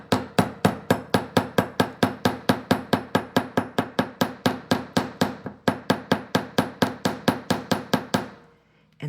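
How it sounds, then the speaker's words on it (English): A hammer strikes a wire arc for wire-wrapped earrings in a fast, even run of roughly forty close, sharp metallic taps, then stops briefly before one more blow. "I'm going to hammer at the arc"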